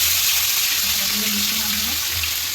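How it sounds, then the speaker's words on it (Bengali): Fish sizzle and crackle in hot oil in a wok, a loud, steady frying hiss heard up close, with a faint low voice briefly underneath. "কড়াইতে তেল গরম হয়ে গেছে। মাছগুলো এখন ভেজে নিতে হবে"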